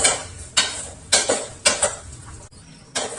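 Peanuts dry-roasting in a pan, stirred with a utensil: a rhythmic run of sharp scraping, rattling strokes about every half second, close and fairly loud, with no talk.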